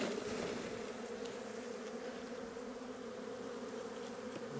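Honeybees buzzing steadily around an open hive during a winter inspection of brood frames on a honey farm, a close, continuous hum with no talking.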